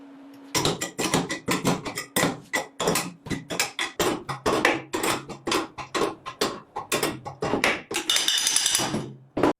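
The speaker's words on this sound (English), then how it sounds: "tapping with a hammer to split the motor housing in half" A hammer taps the metal motor housing of a heavily rusted bench grinder to split it apart, with roughly thirty sharp, close knocks coming in an uneven but steady rhythm, with no talk.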